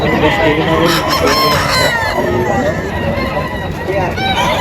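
A Straight Sweater gamefowl rooster crows loudly and close at a gamefowl market in Bocaue, Bulacan, amid clucking from other birds and men chatting nearby.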